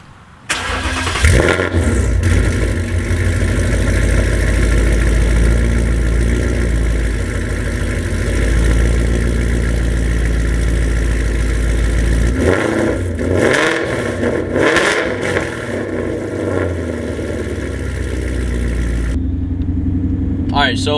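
A 2019 Mustang GT with Speed Engineering long tube headers to the X pipe and an MBRP catback rumbles at a deep idle, then blips into loud revs before settling back, close up and mostly without talk.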